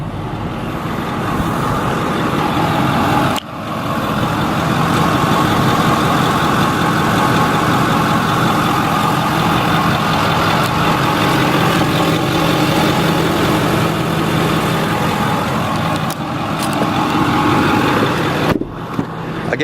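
A 2008 Ford F350 Super Duty crew cab long bed 4x4 with the 6.4-liter diesel runs at a steady idle, its loud, continuous rumble holding for the whole stretch with two short dips and no voices.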